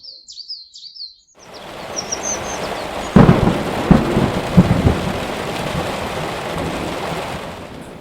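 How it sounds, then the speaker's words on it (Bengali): Heavy rain pours steadily outside as a sharp thunderclap breaks in, followed by rolling rumbles under the constant downpour, after a few bird chirps at the start. "বাইরে ঝমঝম করে বৃষ্টি পড়ছে"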